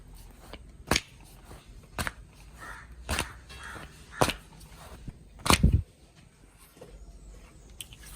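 Parotta dough slapped down on a counter as it is stretched out, six or seven sharp smacks spaced roughly a second apart, with light shuffling and patting in between.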